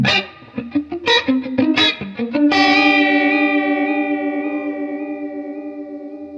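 A vintage Nobels CH-D digital stereo chorus pedal on an electric guitar: a string of short picked notes, then one sustained chord ringing out with slow, wavering chorus shimmer that gradually fades, alone and fairly loud.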